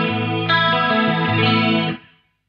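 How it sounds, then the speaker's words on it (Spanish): Guitar played through an Axe FX III tri-stereo chorus modulation effect with detuners, a sustained shimmering chord restruck once, then fading out, heard alone. "A todo ese efecto de modulación, que es tri-stereo chorus más detuners"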